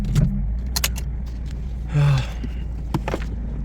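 Close-up jingle of a key ring comes in a few sharp bursts inside a Nissan 370Z after its engine is switched off, with rustling, a breathy exhale and a low steady rumble underneath.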